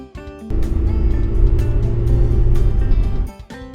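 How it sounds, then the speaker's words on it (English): Close, loud rumble of a car engine from a children's animated vehicle sequence, running steadily for about three seconds with no talking. "Car."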